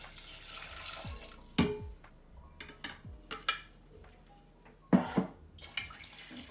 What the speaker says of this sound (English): we're gonna pour the freshly blended coconut milk into the pot